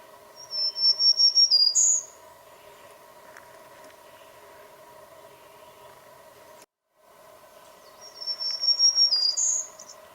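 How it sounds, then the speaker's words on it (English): Recorded song of a black-throated green warbler, two high buzzy phrases of rapid notes ending in an upward lift, separated by a pause, over a steady background hum. "So let's listen to that black-throated green warbler first."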